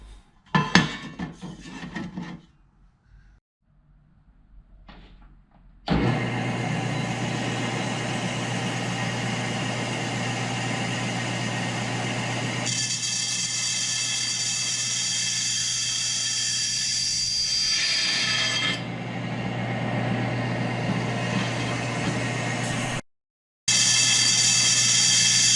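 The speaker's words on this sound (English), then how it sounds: "So let's take this over to the bandsaw and do some cutting." A bandsaw cuts through a metal radiator crossbar support in a garage, starting after some handling clatter and then holding a steady, loud whining grind that changes pitch as the blade works, with a brief stop near the end.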